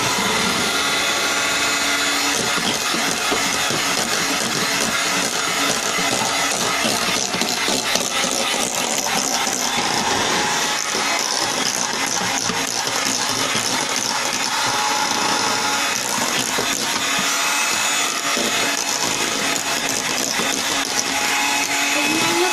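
A loud electric mixer whirs continuously through chiffon cake batter, a steady dense motor drone that holds its pitch throughout with no pauses.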